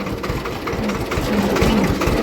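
A tractor engine runs steadily on a farm, a close, continuous mid-to-low rumble with a faint tonal hum and no speech.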